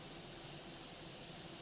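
A paint spray gun driven by compressed air gives a steady, even hiss of spray, close and unbroken for the whole short stretch, with no talking.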